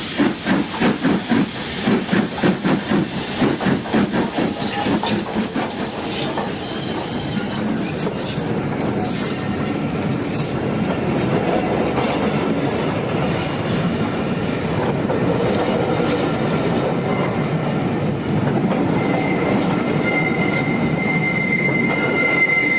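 An LNER steam locomotive hauling a train out of Grosmont station on a service from Whitby, loud rhythmic chuffing and hissing steam with wheel and carriage rumble, a steady powerful roar close by.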